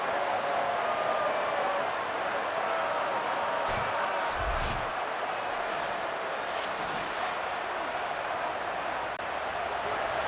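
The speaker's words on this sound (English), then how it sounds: "Listen to the crowd energy here in the early going." A steady roar of a large stadium crowd in the College Football 27 video game, Florida State vs Alabama, broad and continuous, with a few brief louder swells and thuds partway through.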